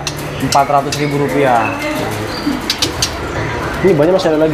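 Several caged imported birds coo and call repeatedly nearby in a bird shop while people talk over them in a busy indoor space.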